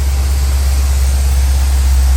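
A 1978 GMC Jimmy engine idles with a loud, steady low rumble and hiss, unchanging throughout, with no voices.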